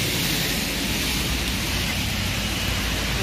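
Steady outdoor rain falls in an open area, a dense, constant hiss of drops with no talk and no breaks.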